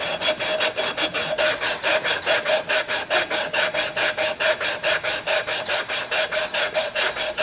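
Lapping compound grinding a valve seat on a Fairbanks 3HP Z engine part, a loud close gritty rasp in steady back-and-forth strokes, roughly four per second, evenly paced with no voices.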